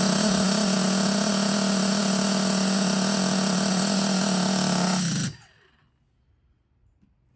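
A Pico big block nitro engine mounted on a Traxxas 3.3 RC truck chassis, a loud high-pitched steady buzzing whine held close up for about five seconds before it cuts off abruptly into near silence.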